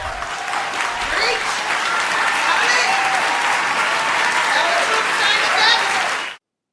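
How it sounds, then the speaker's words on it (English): An audience at the Golden Globes awards ceremony cheers and applauds loudly in a dense, sustained roar that swells slightly and then cuts off abruptly, with a few voices rising above it. "People are cheering for that?"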